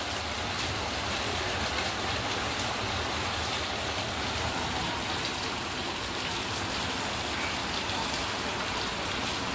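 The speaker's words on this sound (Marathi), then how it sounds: "बाहेर मस्त पाऊस पडतोय" Steady rain falls outside a kitchen during a monsoon day while appe are made, a dense broadband wash that stays even and fairly loud throughout with no break or voice.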